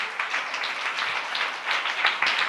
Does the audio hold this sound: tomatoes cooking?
no